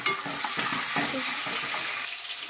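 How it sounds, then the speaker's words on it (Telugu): Curry leaves, green chilies and onion fry in hot oil, a dense continuous sizzle broken by repeated scraping stirs of a spoon against the pan, close and steady with no talking. "అట్లనే కరివేపాకు వేసుకున్నా. అల్లిగడ్డ వేసుకొని కలుపుకోవాలి."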